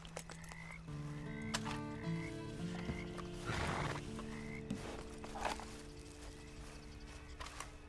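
Horse in the Red Dead Online video game, with a neigh and whinny, plus soft hoof and movement sounds under sustained low tones, amid a busy game soundscape with no talking.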